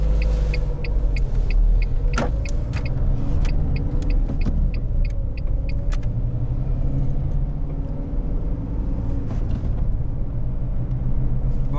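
A car driving along the D2 departmental road between Coutances and Lessay in the Cotentin, heard from inside as a steady low engine and road rumble for the whole stretch, with scattered small clicks and knocks.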